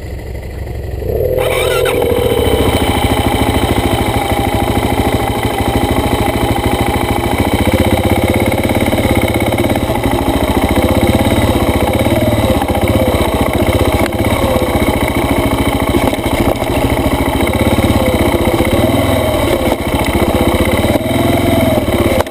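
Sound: dirt bike engine on forest ride

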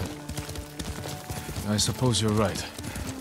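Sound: horse hooves while riding, Ghost of Tsushima video game

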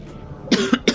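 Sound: person coughing

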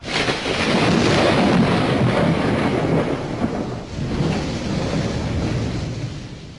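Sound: thunder

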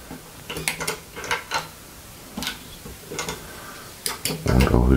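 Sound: Music Nomad MN224 spanner wrench tightening guitar tuner nuts

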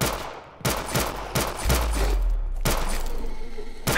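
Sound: gunfire in the zombie video game SKER RITUAL

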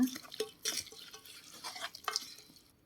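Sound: stirring mushroom soup

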